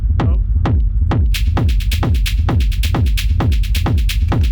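A house drum loop plays: a steady four-on-the-floor kick thumps loudly while crisp hi-hat and percussion hits join partway through, ticking between the beats in a tight, driving groove.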